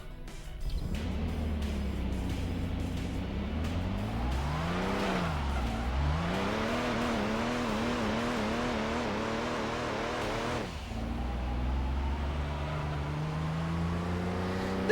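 Car engine from the racing video game Gran Turismo 2 revs and races steadily for the whole stretch, its pitch climbing and falling through gear changes, with brief tire squeal and a sharp cut near the end, loud and close with no talking.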